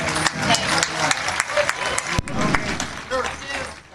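Crowd applauds and claps at a hoop dance contest, a continuous spatter of clapping and cheering with an announcer speaking over it.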